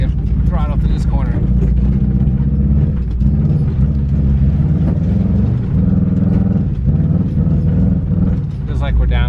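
A car engine runs under throttle through a wet corner, misfiring and running rough as if down a cylinder, a loud continuous uneven drone with mechanical rattling and ticking, and a voice talking over it.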